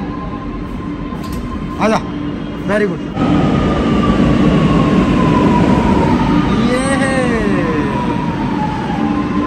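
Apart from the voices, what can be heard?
Lucknow Metro train ride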